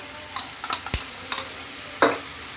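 Chicken curry with tomato paste, green chili, ginger and garlic paste and spices being stirred in a pan: scattered scraping strokes and soft sizzling, with a sharper scrape near the end.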